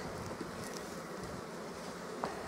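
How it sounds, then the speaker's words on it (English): A colony of honey bees at an established hive gives a steady, even buzzing hum that fills the whole stretch, with faint brief knocks now and then and no voices. "And here are all the bees beautifully making honey."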